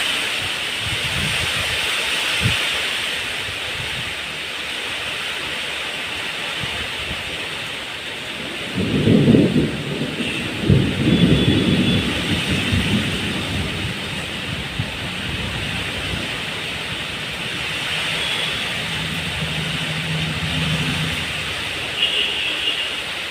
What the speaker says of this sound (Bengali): যা বৃষ্টি পড়ছে আর যেভাবে বিদ্যুৎ চমকাচ্ছে